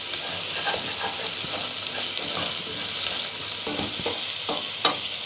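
Onions frying in a pot for a black-eyed pea dish, a constant close sizzle with scraping stirs of a utensil against the pot sides, heard alone without talk.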